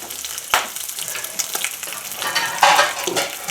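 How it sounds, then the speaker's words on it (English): Bacon frying in a cast iron pan, a steady crackling sizzle with brief louder spatters and stirring bursts, close and alone without talk. "So now you can see it's actually frying."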